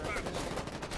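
Dense, continuous bursts of gunfire from the video game Foxhole, overlapping shots rattling loudly over a thick battle din.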